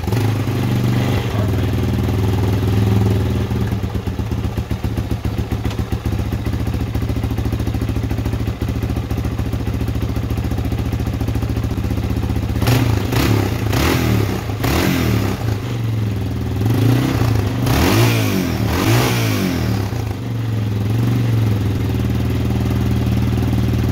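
A 1989 Yamaha XT350 single-cylinder motorcycle, recently refreshed and fitted with a compression release, is cranked with irregular clatter and then fires, running loud and close with rough, pulsing revs that rise and fall over a steady engine drone.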